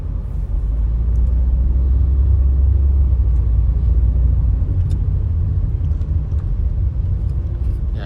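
A car cruises steadily on the road on a hot midday, its engine and tyre rumble a constant, loud low drone from inside the cabin, with no talk.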